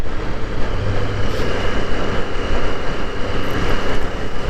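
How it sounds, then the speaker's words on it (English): A motorcycle engine with a modified, throaty air intake runs steadily and loudly, a dense continuous roar close by for a few seconds with no talking. "you can certainly hear the intake"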